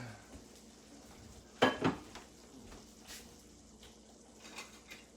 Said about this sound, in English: I'm gonna move it off. Remove the lid.